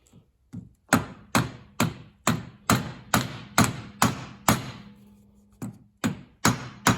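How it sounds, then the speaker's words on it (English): Hammer driving a small punch against a part inside a 1973 Kubota L210 tractor engine, a rapid series of about fourteen sharp metallic strikes in steady rhythm, close and loud, with a brief pause near the end. "I'm going to have to get a hammer and a little punch and see if I can punch that out of there"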